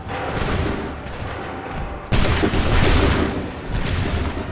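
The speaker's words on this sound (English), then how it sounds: "Hold fire! Fire!" Musket volleys fired on command in Assassin's Creed III, a loud, dense crackle of many shots at once, then a second, heavier rolling volley with a lingering rumble, no talk heard over it.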